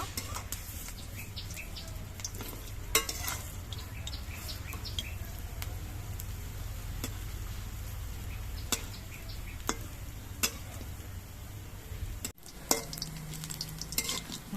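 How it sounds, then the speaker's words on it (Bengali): Bora fritters fry in a pan of oil while being turned, a steady close sizzle running throughout with scattered light clicks and stirring taps, a brief dip near the end before the frying resumes. "বড়াগুলোর এক পিঠ ভাজা হওয়ার পর আমি উল্টে নিচ্ছি দু পিঠে আমি ভালো করে ভেজে নেব"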